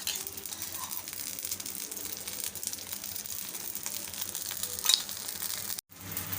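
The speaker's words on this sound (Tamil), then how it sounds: "சுற்றி எண்ணெய் விட்டுப்போம் ஒரு சைடு ரெடியாகட்டும்" A cucumber dosa, a Mangalore-style tiffin, sizzles in oil on a hot pan with a steady close hiss and crackle, broken by a brief sharp click near the end, with no talking.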